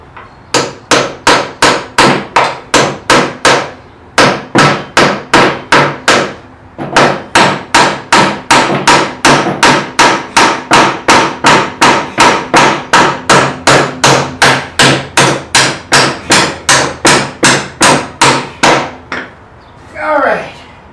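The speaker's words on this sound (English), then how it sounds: "I'm going to get a carriage bolt and pound it in through there" A hammer drives a carriage bolt through wood for a rolling lumber cart. Loud, evenly spaced strikes come in long rapid runs, broken by a few short pauses, and stop near the end.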